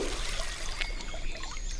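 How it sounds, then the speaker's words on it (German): A small waterfall in the game StoneQuest, giving a light, continuous trickling splash of water at low level with no voices. "So verursacht ein kleiner Wasserfall nur ein leichtes Wasserplätschern."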